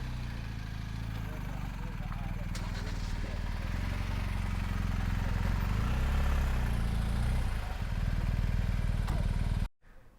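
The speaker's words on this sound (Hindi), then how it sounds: "ये देखें जी, ये बाइक है" A 1250 motorcycle engine idles with a steady, low rumbling throb that runs continuously and fairly loud, with a slight rise in the middle before it cuts off abruptly at the end.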